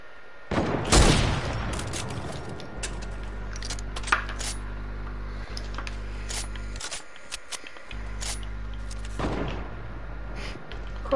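Video game gunfire crackles in scattered sharp shots and bursts over a steady low engine-like drone, with no talking heard.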